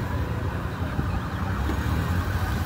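A fire brigade vehicle's siren wails faintly at a car and motorcycle crash scene in Cabo Frio. It sits beneath a dense rumble of engine and traffic noise.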